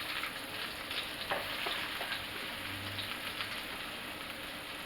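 Mushrooms for creamy garlic chicken are frying in a pan, giving a steady, even sizzle that holds throughout at a moderate level, with a few faint scrapes and knocks mixed in.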